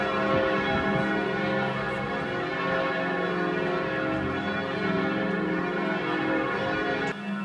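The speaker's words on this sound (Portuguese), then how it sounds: "os carrilhões da Catedral de Santo Stefano explodem a sua sonoridade por um bom tempo" Carillon bells of St. Stephen's Cathedral ring in the historic centre, a sustained, resonant wash of overlapping tones heard alone and fairly loud.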